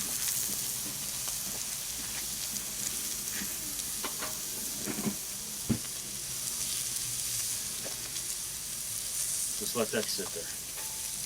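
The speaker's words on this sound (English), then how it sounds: "So you want to keep on like a stir fry with the vegetables." Steak and vegetables sizzle on a Blackstone griddle in a steady hiss, punctuated by scraping and stirring clatters from a spatula, while a person briefly speaks.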